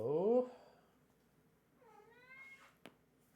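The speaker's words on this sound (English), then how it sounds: "My cat is going nuts." A pet cat meows loudly once up close, then a softer drawn-out meow follows after a pause, with a brief click near the end in an otherwise quiet room.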